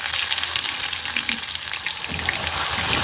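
Mustard seeds spluttering in hot oil while tempering for a Malnad-style appe huli, a dense, close, continuous crackle of tiny pops and sizzling that grows slightly louder toward the end.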